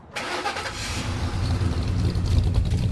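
A car engine cranks and catches, then rumbles and revs steadily, growing slightly louder, close up with no talking.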